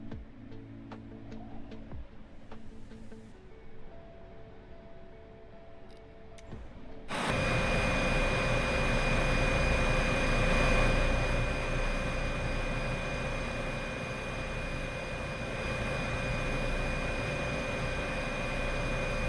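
Airbus H225 helicopter in Microsoft Flight Simulator 2024, flying over the Bavarian Alps: a quiet, muffled cabin hum gives way abruptly to a loud, steady outside turbine roar with a sustained high whine.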